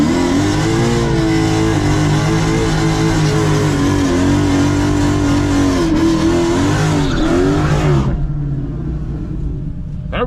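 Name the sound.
Apollo car accelerating hard in first gear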